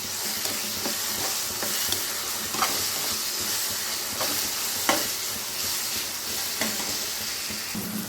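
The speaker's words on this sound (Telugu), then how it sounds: "జీలకర్ర పేస్ట్ కూడా వేగిపోయిందండి." Garlic and cumin paste frying in a pan after tomato pieces for an egg and prawn curry, giving a dense, continuous sizzle and hiss, with scattered stirring clicks and scrapes, close and steady throughout.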